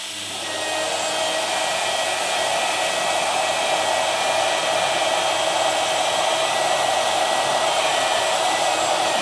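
Machine cutting with a profile router bit, a loud steady high-pitched whine with broad rushing noise that ramps up in the first second and then holds constant, close and without voices.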